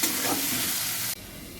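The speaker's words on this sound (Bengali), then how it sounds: "এবার আলুটাকে একটু লাল করে ভেজে নেব" Potatoes frying in a pan for a fish egg curry, a soft steady sizzle with faint stirring that drops abruptly quieter as a lid goes on, continuing low afterward.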